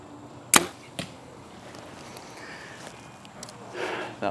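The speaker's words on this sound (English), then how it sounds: "That was some arrow on arrow contact down there." An arrow strikes another arrow lodged in an archery target with a sharp, loud crack, followed by a fainter knock and quiet outdoor rustling.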